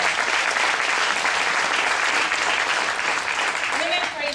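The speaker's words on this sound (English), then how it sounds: "So give yourselves a round of applause." Continuous, loud applause from a large audience at a talk, a dense wash of clapping that holds steady throughout with a faint voice near the end.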